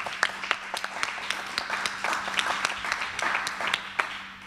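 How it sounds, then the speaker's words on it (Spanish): Audience applause at an Argentine event on audiovisual communication and culture, steady clapping from many hands for about four seconds, fairly close and sustained without talk over it. "su vicepresidente, Sergio Baiman, para quien pido un fuerte aplauso."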